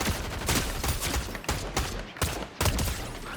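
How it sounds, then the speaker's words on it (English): Assault rifle fire in the Fortnite video game comes in rapid, loud bursts separated by brief gaps, several volleys crackling close by in quick succession. "Wait, assault rifles."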